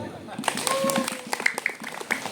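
A mosque congregation gives a short burst of scattered applause, a few sharp claps rising and falling over a speaker's voice and some chatter.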